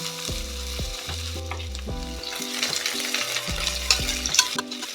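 Two large chopped onions hit hot oil in a pot with bay leaf, star anise, cardamom, cloves and cinnamon, crackling and sizzling steadily under soft background music, with stirring toward the end.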